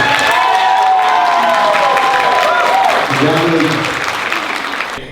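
Wedding guests break into applause and cheering at the reception, a broad wash of clapping with voices and a rising whoop or shout over it, easing off toward the end.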